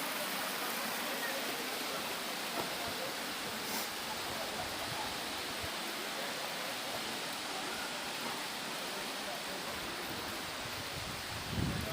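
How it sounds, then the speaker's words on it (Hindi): Broadband, steady rush of falling water from a waterfall near Mukteshwar at Bhalugarh in Uttarakhand, heard close and continuous for the whole stretch with no talk over it. "और ये मुक्तेश्वर के पास एक वाटरफॉल है।"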